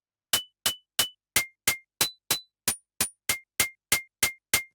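Short, punchy metallic FM percussion hits from a Yamaha TX81Z synthesizer ring out one at a time in an even sequence of about fourteen strikes, each with a bright noisy attack and quick decay, shifting in pitch every few notes.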